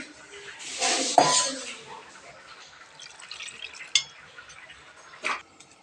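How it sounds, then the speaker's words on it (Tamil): Water is poured into appam batter and stirred in a bowl, giving faint splashes, soft drips and a few light clinks of a spoon against the vessel, close by and quiet, with no voices. "நல்லா தண்ணி ஊற்றி தண்ணியாக கரைச்சிக்கலாம்."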